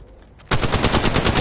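Gunfire in the mobile shooter Apex Legends Mobile: after a quiet moment, a loud, rapid automatic burst of closely spaced shots rattles on without a pause.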